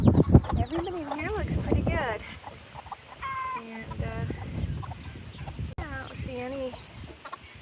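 Chickens cluck and squawk repeatedly in a barn on a rural South Dakota farm, with rising, wavering calls close by, mixed with shuffling and a person speaking briefly.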